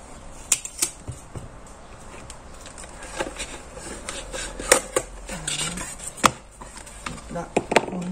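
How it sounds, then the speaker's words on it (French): Adhesive tape is pulled and pressed onto paper while making scrapbook storage binders, giving sharp intermittent tearing and crackling bursts scattered irregularly over soft tabletop handling noise, close and moderately loud. "désolé pour le bruit du scotch"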